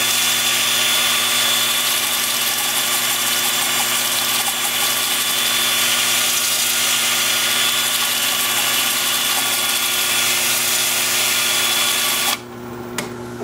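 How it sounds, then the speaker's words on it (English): Wood lathe spinning forward at about 350 rpm during wood turning, a steady, loud motor hum with a constant high whine, running continuously and cutting off near the end. "Now with the lathe spinning forward at about 350."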